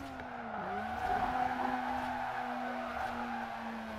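Tires of a 2002 Mazda RX7 Spirit R Type A drift build squeal in a long sustained skid while sliding sideways in Forza Horizon 4, the pitch bending down and then holding steady over the engine hum.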